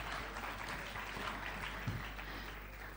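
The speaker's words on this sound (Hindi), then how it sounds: "जोरदार तालियां" An audience at a rap awards show applauds a performer, a dense spread of clapping heard faint and somewhat distant, steady throughout with no talk over it.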